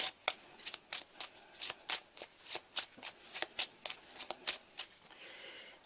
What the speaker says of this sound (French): On va bien battre les cartes, bien les mélanger.